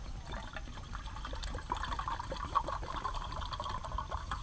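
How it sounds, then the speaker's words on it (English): Water being poured into a pot for heating at a winter campsite, a steady close liquid pour and trickle running through the whole stretch with no talk. "But I'm going to start heating up some water here."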